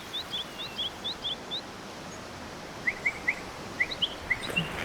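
Birds singing in the forest around a temple, small, faint high chirps in short clusters over a soft, steady background hush, fairly distant.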